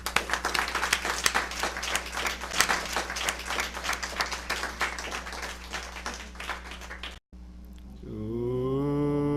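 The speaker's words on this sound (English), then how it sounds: "Let's welcome Dr. Ramakrishna with a big round of applause." A crowd claps steadily in rhythmic, even beats to welcome a speaker at a talk, lasting about seven seconds before stopping abruptly, followed by a brief tonal musical sound.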